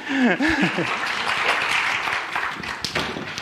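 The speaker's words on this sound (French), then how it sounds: "On l'applaudit." Applause for a participant at a dinosaur-themed talk, a brisk round of clapping with a voice speaking briefly over the start, then the claps carry on alone.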